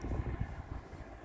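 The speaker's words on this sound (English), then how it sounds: "Just going to zoom in on this small plane coming over." A small plane flies low overhead near Bankstown markets in Sydney, a broad rumbling engine drone that stays fairly steady and moderately loud throughout the short stretch.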